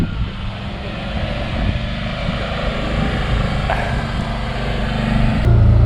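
A farm utility vehicle loaded with fencing and a mineral feeder drives along with a steady, close, low engine drone that swells slightly toward the end.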